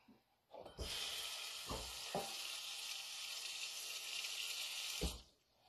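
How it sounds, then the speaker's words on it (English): Water pours steadily into a bowl holding dry ramen noodles, a continuous hissing stream lasting about four seconds, framed by a few sharp knocks of the bowl at the start and end. "2. Add water."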